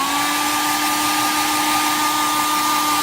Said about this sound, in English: we're going to hit the dryer a little bit.